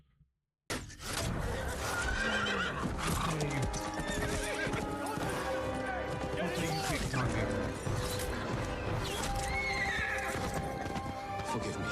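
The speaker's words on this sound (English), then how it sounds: "We then escape through this entire area, climb on a horse, and just dash for our life." A horse gallops in the video game Ghost of Tsushima, with loud, steady hoofbeats and an occasional neigh over busy game music and effects, starting abruptly after a moment of silence.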